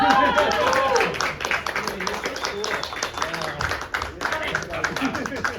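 Audience clapping and cheering at a pinball booth during an arcade expo, a dense, steady wash of many hands in a busy hall, with voices talking over it throughout.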